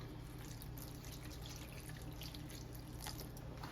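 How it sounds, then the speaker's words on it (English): Water pours from a cup into a cooking pot for a bread soup, a steady, close, continuous splashing trickle with no gaps and no voices. "Now we're going to add some water."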